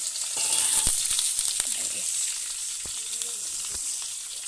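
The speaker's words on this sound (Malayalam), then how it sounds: "കടുക് വറുക്കാം." Mustard seeds with curry leaves and shallots frying in hot oil for a tempering poured over ginger curry, heard as a steady close sizzle with scattered sharp pops and crackles.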